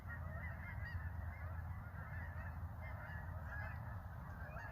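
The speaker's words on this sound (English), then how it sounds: "Geese." A flock of geese honking steadily and continuously outdoors, the calls moderately close and layered over a low rumbling background.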